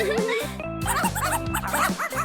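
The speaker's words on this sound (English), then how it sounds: "Looks like the puppy wants to meet his new neighbor." A small puppy gives a quick run of high, yappy barks, close and lively, one after another with short gaps.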